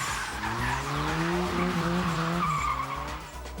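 Boy racers' cars skid across a wet, rain-soaked supermarket car park, tyres squealing loudly over a continuous roaring engine that rises and falls in pitch.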